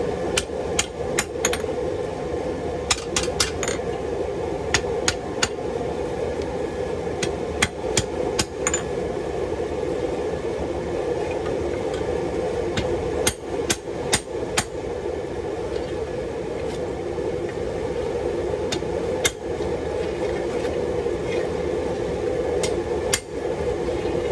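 A hammer striking a sword blade at an angle to bevel it, with sharp metallic blows landing in irregular bursts over a steady loud background hum from the workshop.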